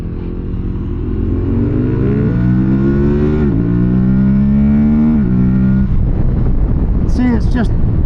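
A 2024 Aprilia Tuareg 660 motorcycle engine pulls hard through the gears, its loud steady drone rising in pitch, dipping at two quick shifts, then climbing again before settling into a rougher rumble.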